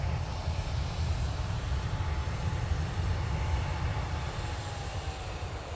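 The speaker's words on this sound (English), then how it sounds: "Ryanair from Belfast is coming in" A Ryanair airliner arriving from Belfast and landing at Manchester Airport gives off a steady, loud engine roar with heavy low rumble that holds even and continuous throughout, with no speech over it.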